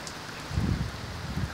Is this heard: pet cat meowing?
no